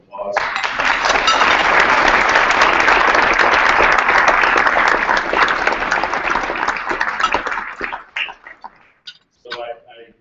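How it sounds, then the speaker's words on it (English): An audience bursts into loud, sustained applause at a school district gathering, dense clapping holding steady for about eight seconds before thinning into a few scattered claps and fading. "So I'd like to offer her a round of applause."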